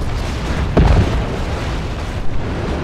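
A boom shot blast in the Warhammer 40,000 strategy game Dawn of War 2 Retribution: one loud, heavy explosion with a deep rumbling burst that decays over about a second, followed by a smaller thump amid continuous battle noise.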